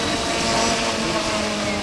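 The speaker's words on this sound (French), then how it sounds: "Ludovic Pinault vous fait une démonstration avec un hélicoptère motorisé par un" A methanol-engined remote-controlled model helicopter flies in a demonstration at a model meeting, a loud, continuous buzzing engine drone with a steady whine that holds throughout.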